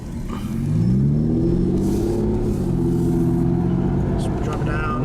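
An Aston Martin Rapide pulling away hard in first gear with wheel spin, a loud, close engine rising and holding a steady revving drone, with a voice speaking over it.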